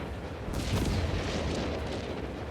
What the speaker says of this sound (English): Our mortar is still blasting.